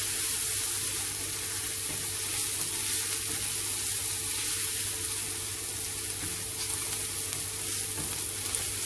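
Onions salted and softening in a pan for dhal puri give off a constant, dense sizzle with a hiss, steady and close without pauses.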